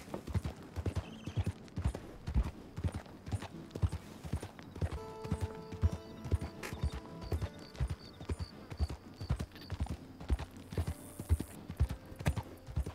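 A horse trots in the video game Red Dead Redemption 2, its hooves clip-clopping in a steady, even rhythm throughout, with faint musical tones in the background.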